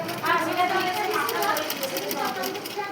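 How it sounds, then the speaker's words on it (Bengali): A sewing machine stitches tape along the edge of a handkerchief, a steady fast rhythmic whir running close and continuous with a faint background voice. "ধারে ধারে সেলাইটা দিয়ে আরম্ভ করেছি, তাহলে ধারের সেলাইটাও হলো আর ফিতাটাও একসাথে লাগা হলো"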